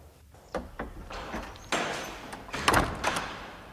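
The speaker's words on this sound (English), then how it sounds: "Close the door, Sexton." A door swings shut in a headmaster's room at a boys' school in a 1969 drama, with a series of wooden clunks, thuds and a latch click spread over a few seconds in a quiet room, and no one speaking.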